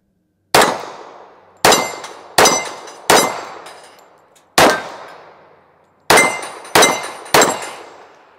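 A .45 pistol fires eight shots at steel plates, each a sharp, loud metallic clang with a ringing tail, spaced irregularly and coming in quick groups toward the end.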